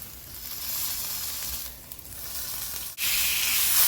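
Steak sears in a hot pan with a loud, steady sizzle and hiss that dips briefly, cuts out for an instant, then returns stronger.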